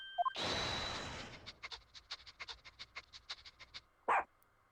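A dog in The Great Ace Attorney video game gives a short bark, then a run of rhythmic sniffing puffs, and ends with a second clear bark. No one talks.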